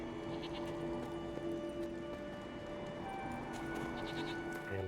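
Goats bleat in a medieval-style video game, several overlapping animal cries over a steady hum of game ambience and background music, moderately loud with no speech.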